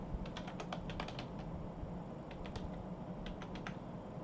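Code is typed on a computer keyboard in quick bursts of clicky keystrokes, separated by short pauses. The sound is close but quiet, over a steady low background hiss.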